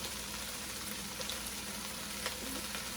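Two chopped tomatoes sizzle and fry steadily in a hot pan for a spicy Italian sausage rice dish, a constant close crackle with faint stirring.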